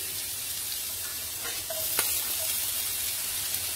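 Garlic and green chilies fry in hot butter in a home kitchen for pink sauce pasta, giving a steady, even sizzle with a few faint clicks of stirring, close and unbroken.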